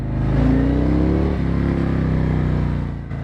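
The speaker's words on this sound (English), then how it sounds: "It's always fun to rev it up, right?" A motorcycle engine revs up close and loud, a steady throaty roar with a rising pitch that dips briefly and settles, alone without talk.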